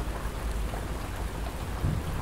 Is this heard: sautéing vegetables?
no